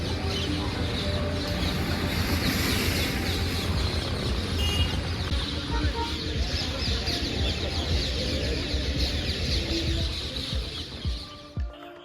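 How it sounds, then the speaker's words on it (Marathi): A dense, loud chorus of birds calls and chirps continuously at dawn in Shegaon, with parrots in the trees and clucking fowl mixed into the busy outdoor din. "पहाटे आपल्याला पक्ष्यांची चिवचिवाट ऐकू येते"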